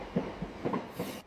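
A Cinque Terre express train rumbles past on the coastal line, a short burst of rhythmic clattering wheels heard at moderate distance.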